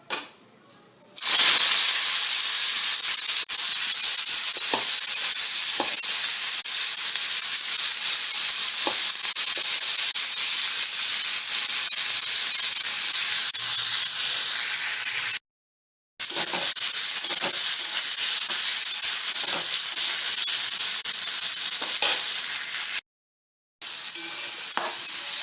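Onions frying in hot oil in a kadai for beresta, a steady loud sizzle and hiss running unbroken for most of the stretch, with two short silent gaps, up close and with no talk.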